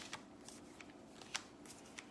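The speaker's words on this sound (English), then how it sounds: "I'm just shuffling the cards while you all tune in." Tarot cards are shuffled by hand in short, soft riffling and sliding bursts with a few sharper card snaps, quiet and close with no voices.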